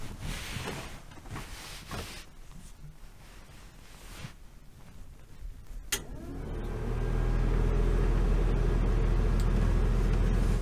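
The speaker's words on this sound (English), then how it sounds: "when I turn on the thermostat and the fan comes on" A furnace blower fan in a 1977 GMC motorhome starts after a faint clicking background, swelling into a steady, loud low-pitched hum that runs on continuously.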